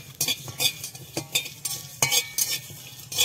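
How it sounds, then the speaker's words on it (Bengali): Spice paste frying in a pan on a new clay stove, with rhythmic metal spatula scrapes and stirring strokes over a soft sizzle, close and fairly quiet. "হালকা একটু লাল লাল করে ভেজে নেব মশলাটা"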